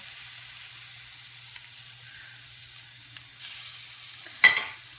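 A schnitzel cooks in melted margarine in a pan, giving a faint, even sizzle throughout, with one brief sharp clatter near the end.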